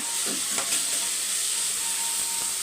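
Curry leaves frying in a hot pan with half a tomato, a steady loud sizzle and hiss throughout with a few faint scraping stirs, no talking.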